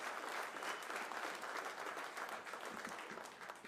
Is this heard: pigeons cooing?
no